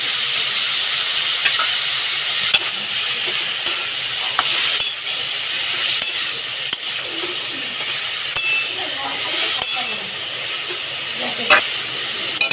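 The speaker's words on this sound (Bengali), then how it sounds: "এবার নুন হলুদ মাখা চিংড়ি মাছটাও দিয়ে দিলাম।" Salt and turmeric coated shrimp frying in a pan with futi kakur, a steady loud sizzle and hiss with occasional stirring clicks and pops throughout.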